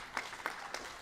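Audience applause at the inauguration of the newly extended taxiway at Mactan-Cebu airport, a steady patter of clapping with a few louder swells, no talk over it.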